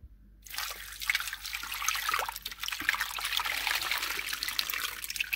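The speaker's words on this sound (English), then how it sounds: "We're going to add water." Water is poured in a steady trickle into a large pot for corned beef spiced with a cinnamon stick, a continuous close splashing stream that starts abruptly and keeps running throughout.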